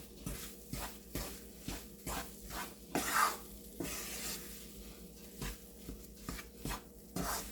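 Melting jaggery is stirred in a pan, giving soft rhythmic scraping strokes over a low, quiet sizzle, close by and with no voices.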